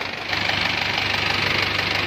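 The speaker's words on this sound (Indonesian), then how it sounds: "Ini sedang pengecekan, baru saja dihidupkan mesinnya." A four-wheel rice field tractor engine runs steadily just after repair of its cracked, welded engine block, giving a continuous knocking, rattling mid-pitched chug close by with no talk over it.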